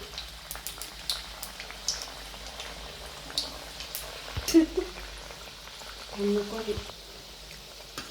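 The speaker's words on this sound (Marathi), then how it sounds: "तर आता थोड्या थोड्या करून आपण तळून घेऊया तेल आता हा चांगलं तापतच आहे" Jaggery kapnya dough pieces frying in hot oil, a soft continuous sizzle with scattered light crackles and pops, faint and steady beneath someone talking.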